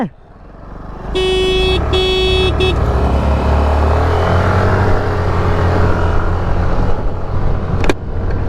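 A scooter horn, from a 2026 Suzuki Access 125 or Yamaha Fascino 125, honks in two long toots and a short one over a revving engine, loud and close, with no talk.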